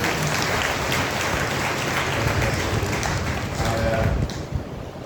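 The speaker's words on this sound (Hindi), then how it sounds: "ताली बजाकर उनको स्वागत कर सकते हैं" Congregation at a Sunday church service applauding to welcome a visiting team, a dense, loud, continuous round of clapping from many people that tapers slightly near the end.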